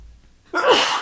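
After a brief quiet moment, a single loud, close sneeze bursts out, sharp and breathy, ending abruptly.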